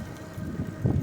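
Wind buffeting a microphone during an outdoor ride, a low rumbling roar that gusts stronger toward the end, with no voices.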